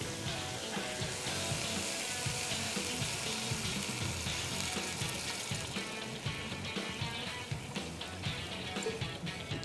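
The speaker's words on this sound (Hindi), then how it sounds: "इसके अंदर गया 2 गिलास पानी" Two glasses of water poured into a pot of chicken for Kabuli pulao, a continuous splashing and hissing pour, fairly loud and close, steady for around ten seconds with no talk.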